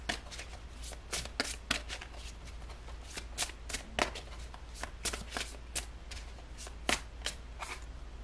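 A tarot card deck is shuffled close up, producing a steady run of crisp riffling and slapping card bursts for several seconds with no talking.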